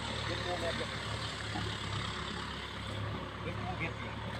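Farm tractor idling in a grass field being ploughed for elephant fodder, a low steady engine hum at a distance, with someone talking over it.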